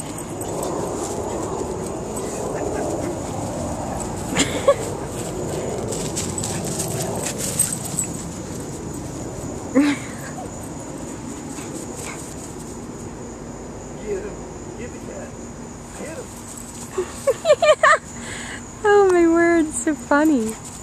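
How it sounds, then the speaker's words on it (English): A dog barks in short bursts and whimpers, with high yelping cries near the end, amid background voices and household noise. "was wondering why he was barking"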